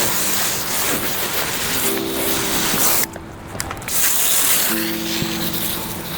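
A pressure washer sprays water to rinse loose leaves off a car, a loud continuous close hiss that cuts out for about a second midway and then resumes, with no voices.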